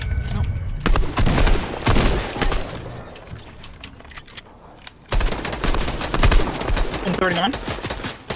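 Gunfire in an online shooter video game, rapid bursts of shots and fusillades with a pause midway, under excited player talk.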